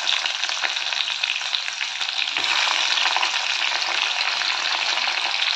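Onions frying in hot oil after bay leaves go into the pan, a steady, close sizzling hiss with light stirring scrapes and no talk.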